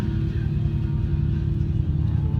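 A steady, loud low rumble of a car engine running nearby at a desert dry camp, continuous and even throughout with no voices.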